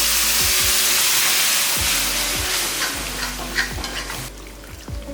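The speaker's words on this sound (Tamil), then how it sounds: "இப்போ இந்த தொக்குக்கு தேவையான அளவுக்கு தண்ணி இப்போ இந்த ஸ்டேஜ்லேயே ஊற்றிடலாம்." Water goes into a pan of frying egg thokku gravy, a loud steady sizzle and steam hiss with repeated scraping stirs and knocks against the pan, settling quieter at the end.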